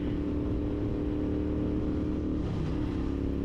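A vehicle engine drones steadily while driving on a road, a continuous loud low rumble filling the whole stretch with no talking over it.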